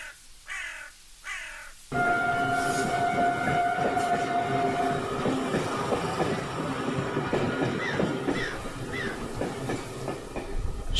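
A train rumbles along with rhythmic clickety-clack, steady and fairly close, and crows caw at the start and now and then over the running noise.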